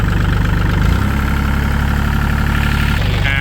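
A 2011 Kubota L3608 tractor's diesel engine running close by, a loud throbbing idle that steps up in pitch as it is revved, then settles, with a steady mechanical chug throughout.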